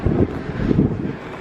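Strong wind buffets the microphone on the open sun deck of the Norwegian Breakaway cruise ship, a loud low rumbling roar that swells and dips in short gusts.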